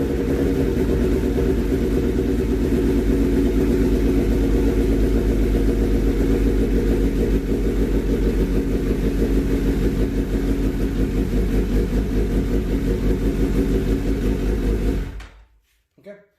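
A Suzuki GSX-S1000 motorcycle engine starts and settles into a steady, loud, close idle rumble that runs for about fifteen seconds before cutting off abruptly.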